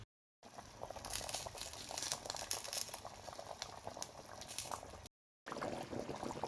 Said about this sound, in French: je vais laisser la sauce bouillir à feu vif sans refermer la casserole